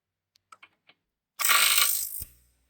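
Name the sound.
Milwaukee power tool removing a strut nut on a Jetta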